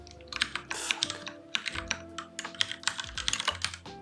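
Fast, uneven typing on a computer keyboard, close and loud, with clustered key clacks and brief pauses throughout, alone with no talking.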